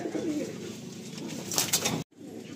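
Pigeons in a West Bengal loft coo steadily at close range, soft throaty murmurs running continuously with a brief dropout near the end, little else around them.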